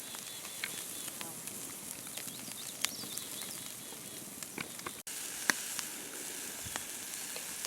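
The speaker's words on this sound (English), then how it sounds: "I just put my meat on, and I'm going to cook them approximately 3 minutes on each side" Meat sizzles steadily on a cooking fire outdoors, a close, even frying hiss with scattered small pops and crackles, no talking.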